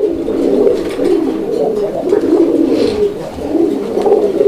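Continuous low, throaty cooing of a pair of Koka pigeons, several birds rolling their calls together close by, loud and unbroken, at a pigeon fair.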